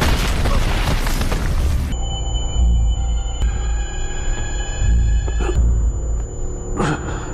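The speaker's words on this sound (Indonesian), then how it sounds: "Sebuah granat meledak dari arah tak terduga" A grenade explosion in an action fight scene: a loud, dense blast that fills the opening seconds, then gives way to a sustained high ringing tone with scattered smaller bursts and crackles.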